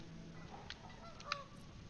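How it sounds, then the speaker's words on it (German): Geese honk in the Anno 1800 city-building game, a couple of brief, quiet calls over a low ambient game background, with no voices. "Ja, Gänse."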